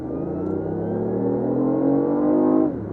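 A BMW i8 accelerates nearby, its engine note climbing steadily in pitch for a few seconds before abruptly dropping off.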